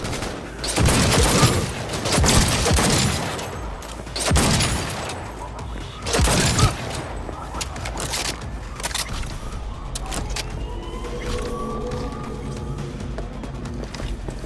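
Rapid bursts of automatic gunfire crackle through a firefight in the video game Cyberpunk 2077, loud and dense at first, then easing into a steadier rumble of vehicle and background noise.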